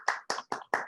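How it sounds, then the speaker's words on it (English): A small group claps a participant in a short burst of applause, four distinct loud claps in an even rhythm close to the listener, with no talking. "Can we all have a round of applause for Estella and what a good job she did"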